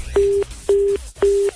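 A telephone line tone after a call is cut off: three loud, evenly spaced steady beeps, each lasting about a quarter second with short silences between, heard close and alone.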